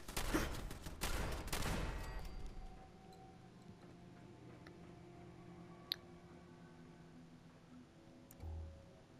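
Automated turrets in Fallout 4 open fire in a dense, rapid burst of gunfire for the first two seconds, then fall silent, leaving a low mechanical hum with a single sharp click and a faint thump later.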